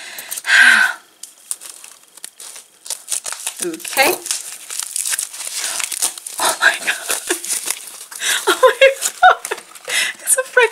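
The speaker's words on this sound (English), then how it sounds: "wrapping paper." Wrapping paper crinkled and torn off a mailed parcel of nail polish, with rapid crackling rustles and ripping bursts close up, an early loud tear then repeated crumpling, with a voice speaking briefly.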